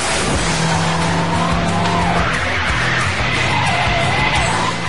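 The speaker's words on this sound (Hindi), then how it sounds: "सुपरफास्ट हाईली मॉडिफाइड कार्स पहाड़ से नीचे जाती हैं, स्किड करती हुई" Highly modified drift racing cars skid down a steep mountain highway with sharp bends, engines roaring loudly and tyres squealing in a continuous, dense wash of noise with no talking.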